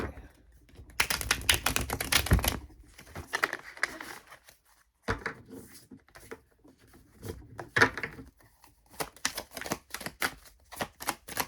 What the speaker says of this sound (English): I prefer to shuffle them up quite a bit so that I know that the cards that come out for you are meant for you